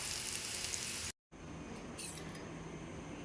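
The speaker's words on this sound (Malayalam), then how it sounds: "അല്പം ഉപ്പും ചേർത്ത് ഒരു ചെറുതായിട്ടൊന്ന് വഴറ്റിയെടുക്കാം" Chopped onion with a pinch of salt sautéing in a pan, a faint steady sizzle that cuts out briefly and resumes, close and quiet with no talking.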